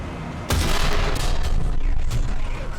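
A tank main gun fires in War Thunder, a sudden loud blast followed by a long, rumbling boom and echo that fills the rest of the moment.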